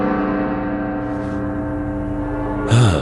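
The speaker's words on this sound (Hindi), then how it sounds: "हाँ, रात के खाने की घंटी बज गई।" A dinner bell rings with a sustained, resonant metallic tone that slowly decays, followed by a brief louder clang near the end.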